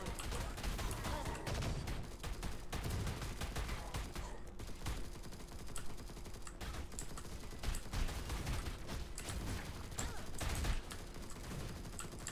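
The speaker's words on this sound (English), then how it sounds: "I'm trying to provide suppression fire for you" Rapid suppression gunfire rattles continuously in Master X Master, dense bursts of shots layered with game effects, while a voice talks over the shooting.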